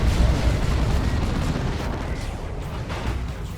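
Dense, rumbling battle noise from a Warhammer 40,000 Dawn of War 2 Space Marines versus Eldar match, with a grenade blast merged into continuous booming explosions and weapon fire throughout.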